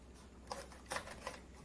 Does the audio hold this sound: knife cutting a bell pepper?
yes